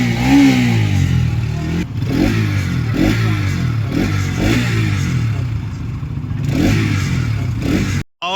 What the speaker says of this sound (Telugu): పెట్రోల్ వేస్ట్ చేయాలంటే బండి ఆన్ చేయాలి